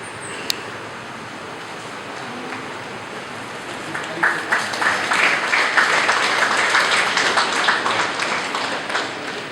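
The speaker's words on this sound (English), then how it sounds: "to give applause and welcome to our Chief Guest, Sri Patre Sir." An audience applauds to welcome the chief guest at a World Water Day event in Mukka, Mangaluru. The clapping swells in after a quiet room tone and holds as a broad, steady crowd applause heard from a moderate distance.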